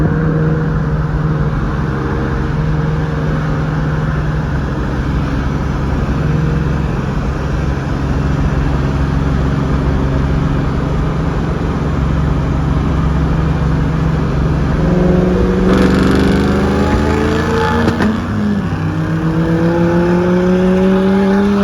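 Ford Mustang engine in a drag race, launched in third gear: a loud, steady engine drone holds for a long stretch, then the pitch climbs and swells near the end as it accelerates hard.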